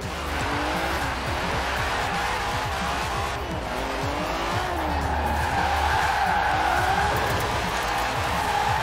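An old Mercedes with a V12 engine drifts in Forza Horizon 4, its exhaust roaring continuously as revs rise and fall, layered with long wailing tire squeal and skidding throughout.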